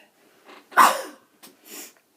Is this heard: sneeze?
yes